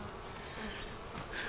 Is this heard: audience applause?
no